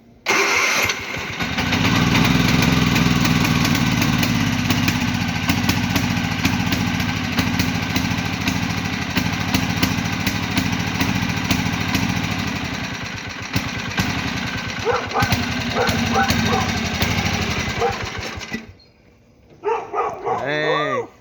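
An old tractor engine cranks and fires up, then runs loud and steady with a rough, throbbing idle for most of the time before cutting off; voices talk briefly near the end.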